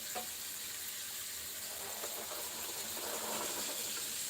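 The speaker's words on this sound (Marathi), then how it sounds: "एकदम आपल्याला छान त्याला परतून घ्यायचं आहे आणि शिजून घेतलेले हरभरे टाकणार आहे त्याच्यात" Chickpeas sautéing in a pan, a steady soft sizzle and hiss running throughout at moderate level with no talking.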